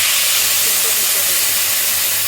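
Water hits a hot pan of fried poppy seeds and potato, raising a loud, steady hiss of steam and sizzle that holds evenly throughout.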